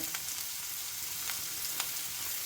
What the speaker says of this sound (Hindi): प्याज को हमने थोड़ा फ्राई कर लिया है